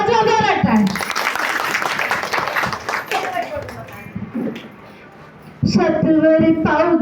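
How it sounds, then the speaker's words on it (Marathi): An audience at a women's haldi-kunku gathering claps loudly and continuously for several seconds after someone speaks, the applause fading before her voice returns. "वाजवा जोरात टाळ्या"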